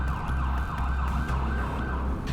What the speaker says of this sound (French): L'épisode se termine alors que les sirènes des voitures du LAPD s'approchent.